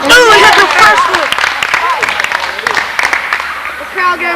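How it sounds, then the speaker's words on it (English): Crowd at an eighth-grade school basketball game in a gym cheering and clapping after a free throw, loud and close at first, then settling into scattered applause and chatter. "The crowd goes wild."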